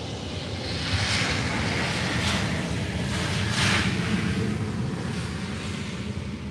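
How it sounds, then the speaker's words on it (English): An easyJet Airbus A320neo landing at Faro airport, heard as a steady, broad jet roar with wind noise that holds at an even level throughout, fairly distant and with no talk over it. "Here comes an easyJet from London Gatwick, an A320 Neo."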